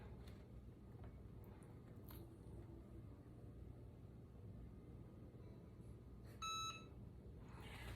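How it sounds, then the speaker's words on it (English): A kitchen timer goes off with a short burst of bright, even beeps partway through, over a steady low room rumble. "the timer has gone off"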